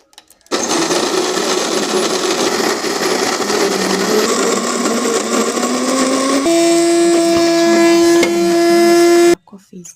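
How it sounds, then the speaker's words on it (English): A coffee grinder grinds coffee beans, a loud steady motorized whir that runs nearly the whole time and shifts to a higher, tonal hum in the final seconds before cutting off. "That's a coffee grinder."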